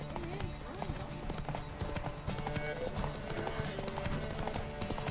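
Galloping horse hooves clip-clop in The Witcher 3, a quick steady rhythm of hoof beats with an occasional snort, close and clear amid busy game background sounds.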